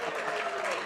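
Dinner crowd at a Citizen of the Year awards event breaking into applause, a short dense burst of clapping from many hands.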